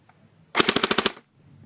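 A rapid full-auto burst of about eight sharp shots from a Double Eagle Krinkov airsoft rifle fires in quick succession, loud and close, then stops abruptly.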